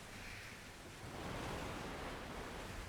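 Ocean waves and gusting wind from Skull and Bones fill the air in a dense, continuous rush of surf that swells slightly louder partway through.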